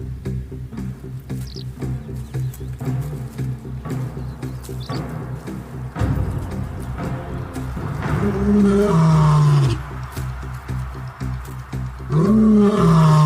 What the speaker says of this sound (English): His roar, loud and strong, is a battle cry.